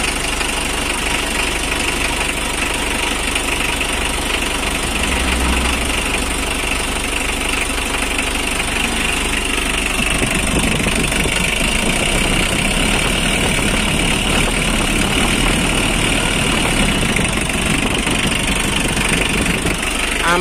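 Diesel engine of a Mitsubishi L300 pickup idling steadily, close and loud, with a continuous rough knocking rumble and no talk.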